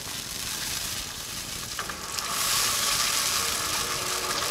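Tomato puree poured into frying onions in a pan, a broad steady sizzle that swells louder midway and keeps hissing to the end, fairly quiet and with no voices.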